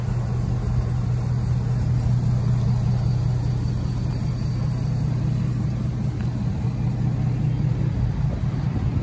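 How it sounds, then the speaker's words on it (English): Steady low idle of a 2013 Ford F-250 Super Duty Lariat's Power Stroke V8 diesel, a smooth continuous rumble heard close and alone with no variation in pitch. "power stroke V8 diesel. Runs smooth."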